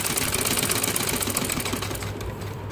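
A sewing machine running steadily while stitching a double bed sheet, a close, fast, even mechanical whir-clatter that eases slightly toward the end.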